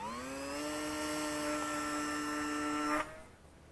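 A small Eachine Mini P5 RC plane with a converted brushless motor whines at a steady high pitch, rising slightly as it flies, then fades sharply as it pulls away.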